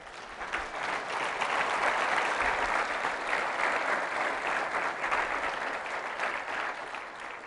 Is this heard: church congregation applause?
yes